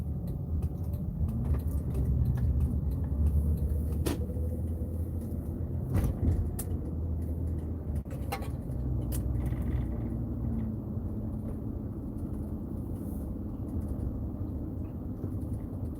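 A reliable Toyota car drives along a road near home with a steady low engine rumble and road noise, broken by a few brief clicks and knocks.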